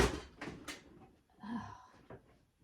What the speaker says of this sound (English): Drawers are really giving me fits.